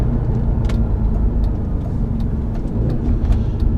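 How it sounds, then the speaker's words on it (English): Cars rolling past on a Sunday morning road, a steady close wash of engine and tyre noise with no pauses, busy traffic filling the whole stretch. "A lot of cars out this morning for a Sunday."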